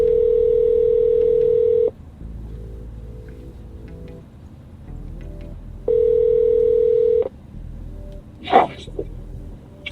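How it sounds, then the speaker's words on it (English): A phone call rings out through a KSS 1015 aftermarket radio in a Camaro: two long, loud, steady ringback tones separated by a pause, then a brief voice near the end. "so we're gonna call Little Max"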